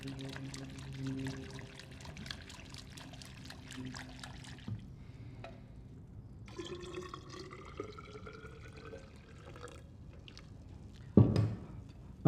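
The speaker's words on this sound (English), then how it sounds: "the next step is now you have to come and pour it into the second measuring cylinder" Soil suspension being poured into a measuring cylinder holding reagent in a laboratory, a continuous liquid pour for several seconds followed by quieter trickles and drips, with a brief clunk near the end.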